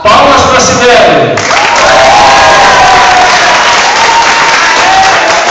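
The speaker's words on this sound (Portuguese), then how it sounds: "Palmas para a Cibele." Audience at a Star Wars women's cosplay contest claps and cheers loudly and steadily, a dense wash of applause with scattered shouts lasting throughout.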